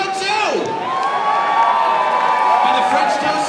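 A stadium crowd at a minor-league baseball game yells and cheers loudly in a sustained roar, with high shrieks and whoops from children rising above it.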